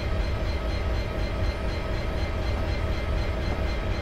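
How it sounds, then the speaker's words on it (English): A train in the game Train Simulator 2017, running on the Settle to Carlisle line, gives off a steady, dense rolling rumble with a faint repeating rhythm. It holds level and unbroken throughout, with no voices. "Come on, train, slow down a bit."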